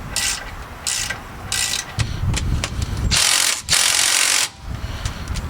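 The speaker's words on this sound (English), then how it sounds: "we'll loosen the few at the bottom so it can drain" Close, loud bursts of ratchet clicking loosen the rear differential cover bolts on a 2016 GMC Sierra, coming in several quick strokes with brief pauses between them.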